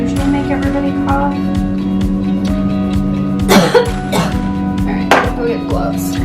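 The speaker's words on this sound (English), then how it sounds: "These things usually make everybody cough" Two or three short coughs cut through a steady hum and repeated tapping during kitchen renovation work, fairly close by.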